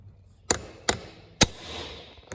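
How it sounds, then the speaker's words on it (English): Three sharp hammer strikes ring out at uneven intervals during a water pump and timing belt replacement, close and loud against a quiet workshop background, with a faint fourth tap at the end. "Finish it off with the hammer."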